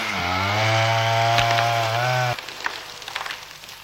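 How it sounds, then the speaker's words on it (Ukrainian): Chainsaws cutting pine trees in a forest, clearing a firebreak in the Chernobyl exclusion zone: a loud, steady engine whine that holds for about two seconds, then stops abruptly, leaving fainter scattered woody cracks and knocks. "Знову стогнуть підрізані сосни, знову ревуть пилки"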